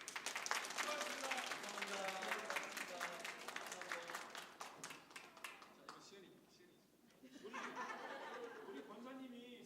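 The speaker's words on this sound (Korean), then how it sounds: "큰 박수." A church congregation at a Sunday service breaks into clapping that thins and fades midway, then swells again, with laughter and chatter mixed in.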